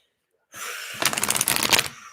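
After a moment of silence, a deck of tarot cards is shuffled up close: a soft slide, then a rapid riffling flutter of cards.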